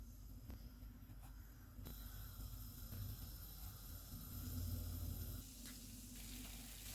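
Donuts fry in hot oil on a low-to-medium flame, a steady soft hiss and bubbling sizzle that swells slightly midway and carries on evenly without any voices.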